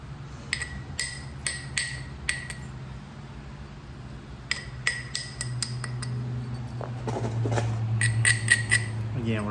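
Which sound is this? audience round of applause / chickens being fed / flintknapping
flintknapping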